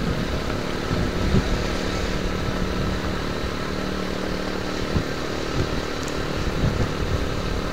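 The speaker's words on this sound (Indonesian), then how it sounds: "bener-bener ngegas nih teman-teman" A vehicle engine labors hard on a village road near Sukamakmur, near Magelang, producing a loud, steady drone with rough low rumbling and slight swells. It runs throughout with no voices heard.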